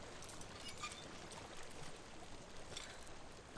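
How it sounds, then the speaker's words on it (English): Steady rushing water in the video game Hellblade, a continuous broadband wash with a faint trickling texture, quiet and even throughout with no voices. "Rushing water?"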